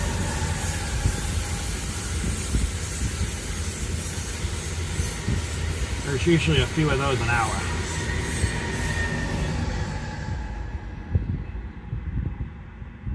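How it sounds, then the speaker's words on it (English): Brightline passenger train on the Orlando to Miami line passing close by, a steady loud rumble of wheels and cars with a brief squealing, screeching stretch midway before the noise thins out; someone speaks briefly over it. "here comes the train up. That's the bright line."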